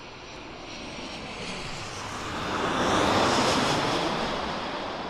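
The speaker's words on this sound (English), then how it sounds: "next arrival is very, very short final. TUI 737-800" A TUI Boeing 737-800 on very short final to land at Birmingham Airport, its engines a loud broadband jet roar that swells to a peak as it passes close by and then eases slightly, with no voices.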